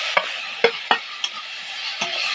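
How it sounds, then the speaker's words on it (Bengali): Minced meat is stirred and fried in oil in a pan: a steady bright sizzle with several sharp spoon or spatula scrapes and knocks at irregular intervals, close and fairly loud. "এবার এই মাংসের কিমাগুলো দিয়ে দেবো।"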